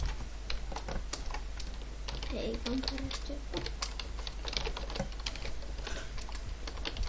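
Quick, steady typing on a computer keyboard: a dense, close run of light key clicks that continues throughout, with a brief voice heard faintly in the middle.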